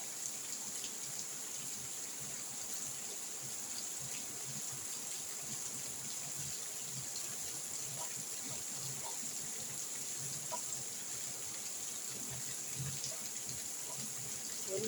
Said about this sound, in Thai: ฝนตกบึมบั่มบึมบั่มลงมากมึงนะ